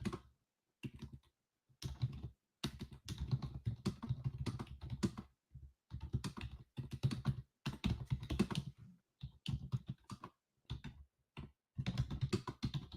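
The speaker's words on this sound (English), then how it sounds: "I'm just typing in chat." Rapid clatter of computer keyboard typing in bursts with short pauses, close and fairly loud, the keystrokes coming in quick runs over about thirteen seconds.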